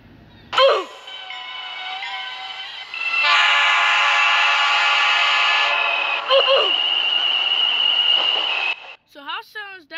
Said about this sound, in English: that's how this train sounds